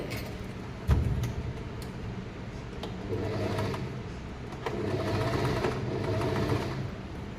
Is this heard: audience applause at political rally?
no